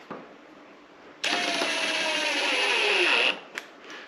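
A screw being driven into a wooden jig for flattening rough-cut lumber, a single sustained burst of power-driver whine lasting about two seconds, with the motor pitch slowly dropping as the screw seats, close and loud, followed by a short click.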